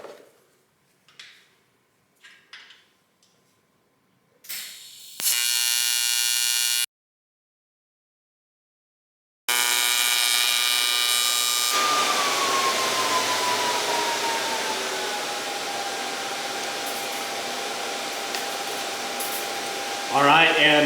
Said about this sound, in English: ready to do our last weld. I've got my brand new tungsten here in the torch.